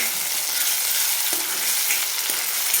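Finely chopped tomato hits hot oil with browned onions in a pan for a fenugreek leaf (methi) dish, giving a steady close sizzle with a few soft stirring knocks.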